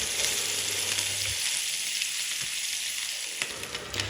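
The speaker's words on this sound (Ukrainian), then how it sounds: "Після того, як крила перевернули, смажимо під кришкою ще десь 20 хвилин." Chicken wings in orange marinade fry in a covered pan with steady sizzling hiss, continuous and moderately loud, with a few faint clicks and low thumps near the end.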